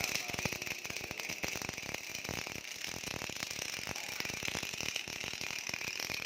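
A robotic gas welding machine in a Japanese workshop runs continuously, giving a dense rapid ratcheting mechanical clatter with a steady whine, moderately loud and without voices.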